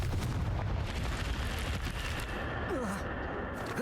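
A Confringo fire spell explodes in Hogwarts Legacy, a dense, rumbling blast that fills the whole moment at moderate loudness with a sustained roar beneath it.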